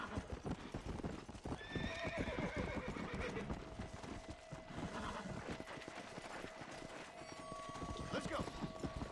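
A horse's hooves clip-clop steadily during a ride in the video game Red Dead Redemption: Undead Nightmare, a continuous rhythmic trot under dense game sound with a brief whinny.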